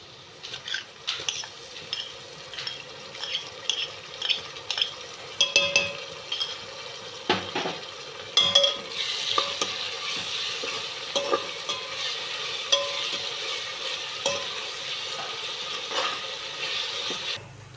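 Ginger-garlic paste frying in a pan on the stove, a steady sizzle with frequent scraping and stirring clicks of a spoon against metal, close and fairly loud, with no voices.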